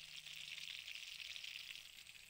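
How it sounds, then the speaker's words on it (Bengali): Fish frying in a pan in a home kitchen, a steady close hiss and crackle of hot oil that runs unbroken with no voices. "এই দেখো মাছ ভাজা হচ্ছে"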